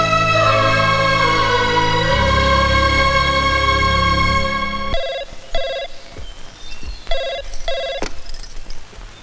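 A telephone rings in a Hindi film household scene, with bright repeated bell trills from about five seconds on, loud and clear over a quieter room; beforehand a sustained musical score fills the first part.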